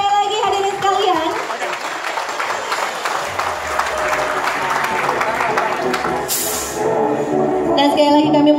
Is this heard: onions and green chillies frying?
no